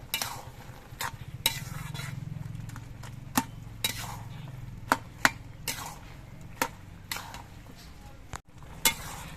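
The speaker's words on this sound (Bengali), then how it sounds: "এবার লাউ গুলো নেড়ে চেড়ে মিশিয়ে দিতে হবে সবকিছু দিয়ে" Bottle gourd is stirred in a pan with ground ginger and radhuni spice paste: a quiet sizzle underneath, with repeated sharp clinks and scrapes of a utensil against the pan.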